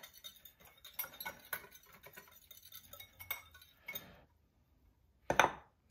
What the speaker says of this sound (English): at each step, I go ahead and whisk the spices together